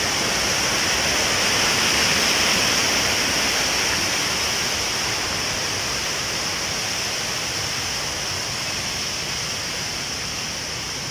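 A strong current of mountain water rushes steadily in a loud, continuous broadband roar, close and unbroken throughout with no voices.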